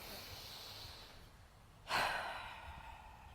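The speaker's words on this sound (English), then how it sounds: "Take a few deep breath inhales" A single deep breath, starting as a soft airy background, then a sudden louder exhale or inhale that tails off slowly, close and gentle with no talking.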